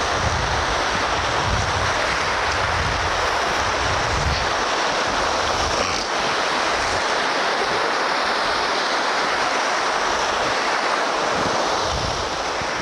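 Ocean surf at a beach's water edge as the tide recedes, a loud continuous wash of waves with heavy wind noise on the microphone, no voices.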